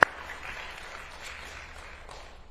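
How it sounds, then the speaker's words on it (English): Applause for elected officials at a Stafford City Council candidates forum, a sharp first clap followed by soft, thin clapping from a small audience that fades gradually. "Elected officials, let's give them a round of applause."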